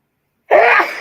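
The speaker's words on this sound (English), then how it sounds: "I'm going to sneeze." A single loud, close sneeze bursts out after a moment of silence, sharp at onset and then trailing off, with no talking around it.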